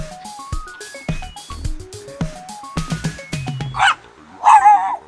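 Dogs barking and yipping in the pet area of a shopping centre in Recife, several short barks scattered across the stretch, with two louder, closer bursts near the end.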